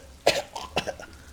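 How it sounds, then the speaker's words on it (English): A drunk man's harsh hacking cough in Disco Elysium, two wet rasping bursts close up with a ragged throaty tail, alone and fairly loud. "The drunk man starts coughing, a really disgusting,"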